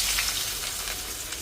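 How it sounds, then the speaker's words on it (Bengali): Chopped onions sizzle steadily in hot oil, a continuous soft hiss of frying that stays fairly quiet and close throughout. "তো প্রথমে একটু তেল দিয়ে এখন কেটে রাখা পেঁয়াজ থেকে পেঁয়াজ দিয়ে দিচ্ছি"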